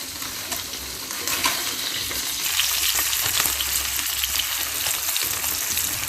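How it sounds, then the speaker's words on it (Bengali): Poli fish fry in hot oil with a steady, dense sizzle, joined by a few soft clinks and stirs as the pieces are lifted out one at a time. "এই মাছ বেশি ভাজতে হয় না, এরকম ভাজা হয়ে গেলে মাছগুলো তুলে নিচ্ছি একে একে"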